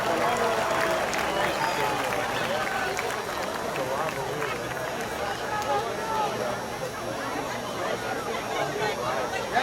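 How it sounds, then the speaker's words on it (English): Crowd at a Newbury Park at Westlake high school football game clapping for a young contestant after his field goal attempt, a broad, moderately distant patter of hands mixed with murmuring and background babble that continues throughout. "but let's give him a round of applause."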